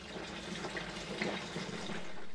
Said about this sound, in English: I've put a little too much in there, as you can see, so it's draining out and it'll find its own level.